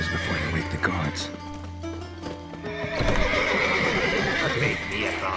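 Horses in The Witcher 3 neigh and whinny repeatedly over clip-clopping hooves, loud and close, with a voice talking alongside.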